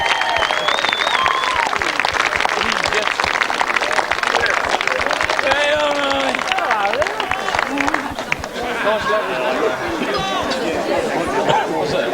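At a grasstrack racing meeting, a crowd cheers and claps for the Midland team, loud sustained cheering and applause mixed with chatter and shouting voices throughout.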